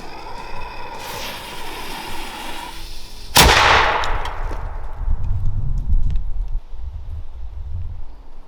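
A single loud cannon blast firing silverware cracks out midway, followed by rumbling and wind noise, with a hissing whoosh leading up to it.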